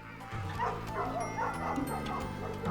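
Dog barking inside the video game Night in the Woods, a run of short yips and bow-wows over a steady game music bed, moderately loud and fairly close.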